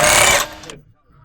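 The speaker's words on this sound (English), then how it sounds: "Using a 19mm deep socket with an impact," Impact wrench loosening a lug nut with a 19mm deep socket on a Honda Civic FK, one brief loud burst of hammering that cuts off and decays into near silence.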